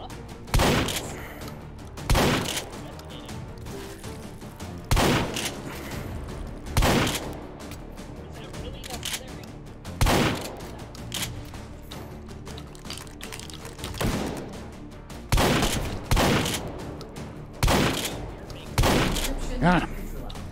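Shotgun blasts ring out in the VR shooter Hot Dogs, Horseshoes & Hand Grenades, a dozen or so loud booming shots spaced one to three seconds apart, some in quick pairs, with someone talking between them.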